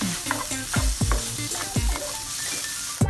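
Green chili and bell pepper are stir-fried for sisig tofu, with a steady sizzle broken by repeated rhythmic scraping and clanking strokes of a spatula against the pan, close and loud.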